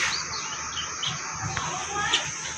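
Budapest racing pigeons calling in a loft or market setting, with soft chirps and coos close by over a constant background hiss.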